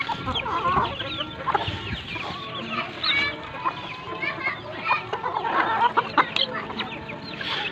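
Chickens cluck and squawk busily while pecking at bread, a dense, close chorus of overlapping calls with some rustling; a voice is faintly present in the background.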